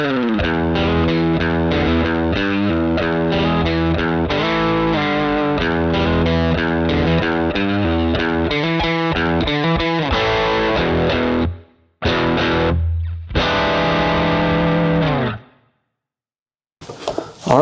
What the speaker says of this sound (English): It's an octave distortion.